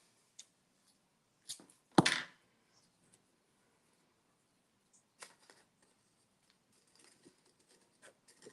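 Scissors cutting card paper for a homemade birthday card: a few sharp, close snips, one louder crisp cut near the start, then scattered soft rustles and small clicks in a quiet room.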